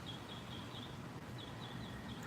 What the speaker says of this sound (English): Anybody know what kind of bird that makes that noise?